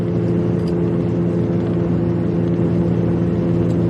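A car cruises along a Nebraska highway at about 74 mph, a steady low engine and road hum with no change in pace.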